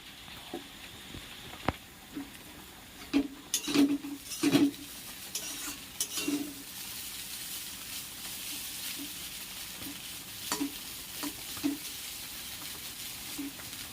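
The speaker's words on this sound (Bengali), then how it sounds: "আমার মা চাউমিনগুলো ভাজছে" A steady sizzle of chow mein noodles frying in a pan, with a spatula scraping and occasional metallic clinks against the pan.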